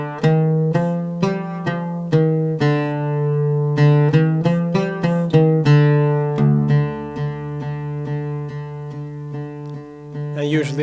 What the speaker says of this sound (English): So the bayati played in the full sort of jins sounds like this.